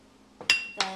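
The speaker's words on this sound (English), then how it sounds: "I'm going to put in my mussels first" Mussels dropped into a pot for a spicy Korean-Chinese seafood noodle soup with bacon, clinking against metal in two quick bright clatters, close and fairly loud after a quiet moment.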